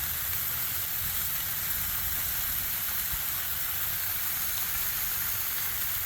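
Taylor ham sizzles steadily on a hot Blackstone griddle, a dense even hiss that stays loud and unbroken the whole time with no talking.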